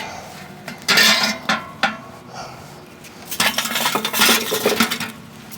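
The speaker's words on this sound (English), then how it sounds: "let's dump the charcoal down in there" Charcoal is dumped into a barrel, with a few loud rattling clatters, a pause, then a longer stretch of tumbling, clinking pieces, close and loud.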